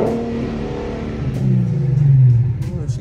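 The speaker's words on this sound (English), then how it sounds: "She sound pretty good to me." An Infiniti Q50 engine revs through its exhaust with the stock tips, a deep rumble that swells and climbs in pitch before easing off, close and fairly loud.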